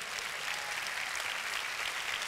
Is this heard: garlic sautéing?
no